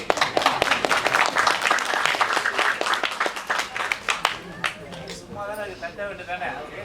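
An audience at a film's song and trailer launch event claps in a scattered burst of sharp, distinct hand claps that thins out and fades, leaving a faint murmur at the end.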